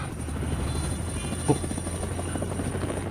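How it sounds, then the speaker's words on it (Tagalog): A military helicopter in a video game drones steadily with a low rotor thrum and a faint high whine, close and continuous throughout, with one brief thump midway and no talking. "Helicopter."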